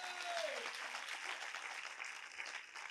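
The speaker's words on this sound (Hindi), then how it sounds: "अरे ताली बजाइए" Audience applause in a hall during a Hindi motivational talk on changing beliefs, dense steady clapping from many hands lasting the whole stretch at moderate distance, with a brief voice at the start.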